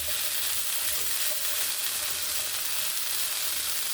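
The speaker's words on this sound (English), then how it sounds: "I'm going to let these potatoes cook for a little bit longer" Potatoes frying in a pan give a steady, dense sizzle that stays even and fairly loud throughout, with no talking over it.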